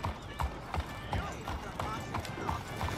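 Horse hooves clip-clopping in Red Dead Redemption 2, a steady rhythmic series of hoof strikes at walking pace, fairly close but quiet.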